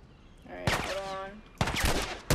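Gunshots in The Last of Us Remastered, with two sharp, loud bursts about a second apart, the first followed by a ringing tonal tail, heard alone without talk.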